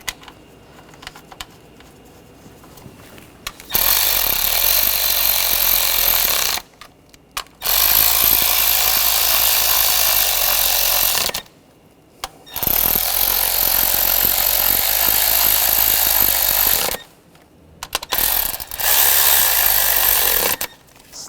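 A power ratchet or impact tool tightens bolts on a 2013-2019 Ford Escape 2.0L four-cylinder engine during a variable valve timing solenoid job, running in several loud sustained whirring bursts separated by short pauses.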